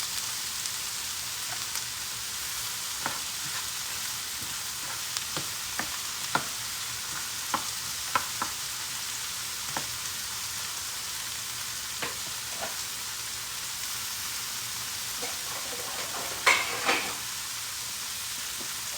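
Shrimp fry on a stovetop griddle with a steady broadband sizzle, nearby and even, broken by scattered sharp crackles and pops, with a brief burst of louder spatter near the end.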